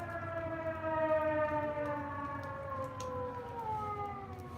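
Three T128 outdoor warning sirens wail together in a long, steady, loud overlapping drone, their tones gliding slowly and interweaving for the whole stretch, with no voices over them.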